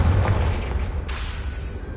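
A Confringo blasting spell detonates in Hogwarts Legacy as a heavy, booming explosion with a deep rumbling tail, and a second bright burst hits about halfway through.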